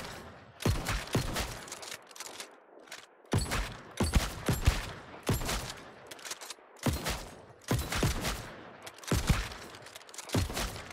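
Repeated blunderbuss auto-attack blasts in the game New World, loud shotgun-like bursts firing in a steady rhythm of single and double shots across the whole stretch, with no talking.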